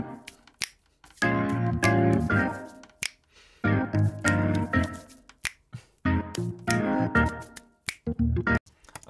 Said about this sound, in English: which of course is snaps and hand claps